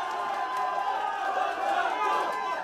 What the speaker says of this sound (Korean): 원창무 캠프에선 일제히 환호가 쏟아져 나옵니다.